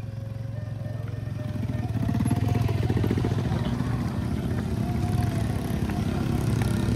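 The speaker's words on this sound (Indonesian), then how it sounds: "Ini kayaknya ada alat berat yang nanjak sini nih." Heavy equipment engine labouring uphill on a narrow forest road, a loud, steady diesel-like rumble with clattering rising and holding throughout.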